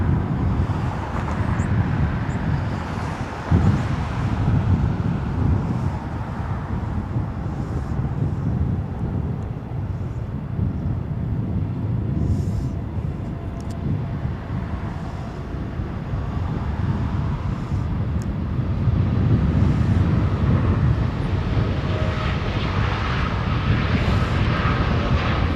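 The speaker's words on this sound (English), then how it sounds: "That was an early liftoff for a Dreamliner." An Aeromexico Boeing 787 Dreamliner taking off at Los Angeles International Airport, a sustained low rumbling roar that swells toward the end, with light wind buffeting on the microphone and no talk.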